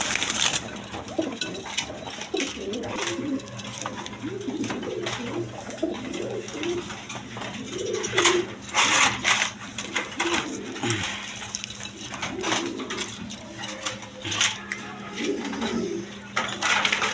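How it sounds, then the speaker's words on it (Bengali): Lahori pigeons, big males, coo repeatedly in low, throaty bursts, close by, with rustling and faint clinks in the background. "দর্শক এখানে দুইটা লাহোরি নর কবুতর আছে একদম বিগ সাইজে"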